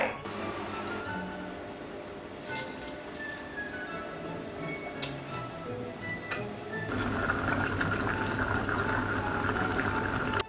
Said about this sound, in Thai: ตั้งน้ำนะครับผมแล้วก็ต้มน้ำให้เดือด เราใส่เส้นอุด้งแล้วก็ ตัว ไส้กรอกชีสลงไป